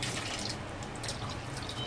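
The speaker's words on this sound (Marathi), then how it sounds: "तर मी 2 कप पाणी घालून घेते" Water runs steadily into a pot for making tea for four, a continuous close pouring splash with no pauses and no talk.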